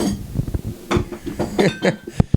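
Glass Big Machine Vodka bottle and glasses clinking close up, a quick irregular series of light taps and knocks with a few brighter rings toward the end, lasting about two seconds with no talk.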